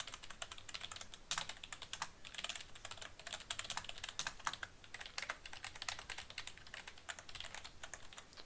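Typing on a GAMDIAS Aries P1 RGB gaming keyboard produces a quiet, close, continuous patter of key presses in irregular bursts, with no voices over it.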